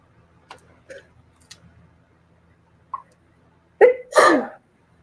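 A single close, sharp sneeze during a late-night live auction stream, preceded by faint clicks and soft sounds in a quiet room.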